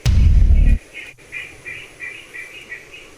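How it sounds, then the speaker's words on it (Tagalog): Forest birds calling around a camping tent, a repeated chirping call pulsing steadily at moderate distance after a brief loud low rumble at the start, with no talk. "Sa kagubatang ito, iba't ibang tunog na ibon na nakakatakot ang marinig mo."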